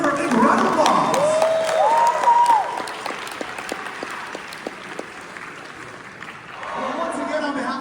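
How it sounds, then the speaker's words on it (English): Audience applause at a Six Flags Fiesta Texas theme park show, clapping and some cheering that thins out mid-clip and swells again near the end, with a voice and brief tonal sounds over it. "Get ready for a big round of applause."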